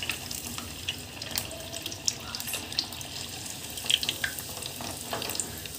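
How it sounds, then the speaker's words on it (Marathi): An aloo paneer bird nest deep-fries in hot oil, bubbling and crackling steadily at a low level with small scattered pops and no voices. "छान असं आपण हे तळून घेणार आहोत।"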